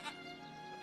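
Sheep bleating in a continuous, slightly wavering call lasting under a second, close and fairly clear on a farm, with no talk over it.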